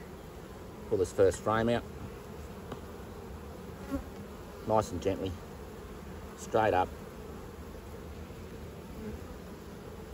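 Honeybees hum in an open hive as a beekeeper gently lifts out the first frame, a steady low buzz running beneath bursts of close speech.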